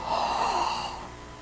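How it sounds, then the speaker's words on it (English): A single big, sharp gasp for air right after the face comes up from being fully immersed in water, loud and close, with no talking. "big gasp for air."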